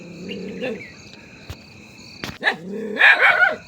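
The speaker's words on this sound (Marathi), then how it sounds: "बघा तुम्ही हा कसा भुंकतोय" A house dog barks in short, loud, close bursts at a green plastic bag lying on the ground, with crickets chirping steadily behind.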